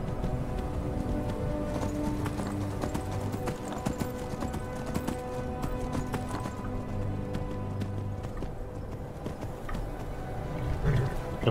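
Horse hooves clip-clop steadily on hard ground, close and rhythmic, with a brief whinny and faint ambient noise in the video game Skyrim.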